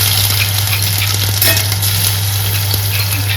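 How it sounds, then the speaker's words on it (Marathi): Cumin, mustard seeds and crushed garlic sizzle loudly in hot oil for a banana curry, a dense continuous crackle close to the pan with faint stirring clinks. "इथे जिरे टाकून घेते त्याच्यानंतर इथे मोहरी आणि ठेपलेला लसूण"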